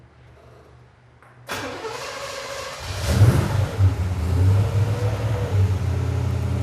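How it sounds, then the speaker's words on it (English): After a quiet hum, a car engine fitted with a FAST EZ-EFI fuel-injection system cranks and catches with a little throttle, then revs up roughly before settling into a loud, uneven idle. "We'll give it just a little bit of throttle pedal and start the motor."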